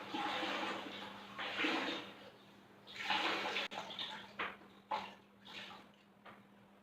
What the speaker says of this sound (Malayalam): ഈ ഒരു മോപ്പ് വെച്ചിട്ട് തുടക്കാമെന്ന് വിചാരിച്ചു